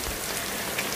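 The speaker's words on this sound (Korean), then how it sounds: "지금 소나기가 마구 쏟아지는데요" A heavy rain shower pours down on a Hallasan mountain trail, a dense, loud, continuous hiss of drops striking surfaces close by, with no voices.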